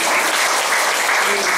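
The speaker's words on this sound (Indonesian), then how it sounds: "Boleh tepuk tangan buat Yesus." Loud, close congregation applause in a church, a dense burst of many hands clapping at once, brief and steady with no voices on top.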